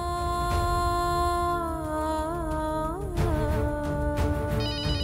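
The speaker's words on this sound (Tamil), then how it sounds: "ஹால்ல போன் அடிக்குது, யாராவது எடுக்க வேண்டியது தானே?" A phone rings in a home's hall with a melodic electronic ringtone that keeps going over a low background hum, moderately loud and steady.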